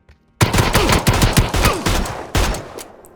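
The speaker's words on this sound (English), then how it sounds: "The deafening thud of a heavy pistol up close, the rattle of a submachine gun nearby, or the crack of a sniper rifle in the distance." Rapid gunfire in PUBG from pistols, submachine guns and sniper rifles: a loud, dense burst of sharp repeated shots with a brief pause, then a final volley, no talking.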